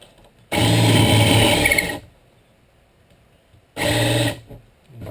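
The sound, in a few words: Forstner bit drilling a flat hole in wood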